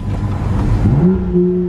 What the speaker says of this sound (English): It's the N55 with a few different changes, but it makes a totally different noise, the exhaust.